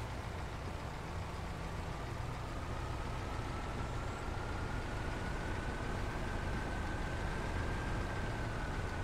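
A heavy video-game truck engine drones steadily at low revs while towing a vehicle, a constant rumble with a faint rising whine, no voices.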